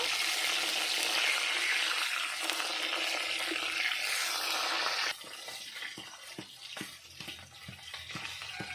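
Bhola fish fry in hot oil with a loud, dense sizzle. The sizzle drops to a quieter hiss halfway through, broken by repeated taps and clinks of a utensil.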